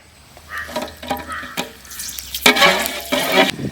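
Spices and green chili frying in sunflower oil for a village-style vegetable biryani, with stirring scrapes and sizzling bursts that grow louder toward the end.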